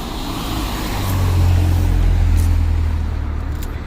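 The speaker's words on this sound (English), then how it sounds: "Car coming." A car approaches and passes on a narrow residential road lined with big gardens, its engine rumble swelling from moderate to loud over the middle seconds and holding steady, with no talking.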